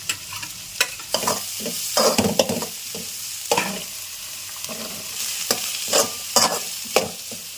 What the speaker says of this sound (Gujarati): હવે નાખી દઈશું ડુંગળી અને મરચાં.